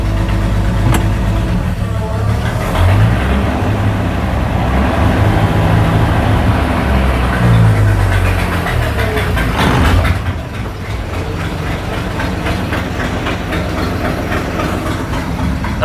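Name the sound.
1965 Chevrolet C10 truck engine running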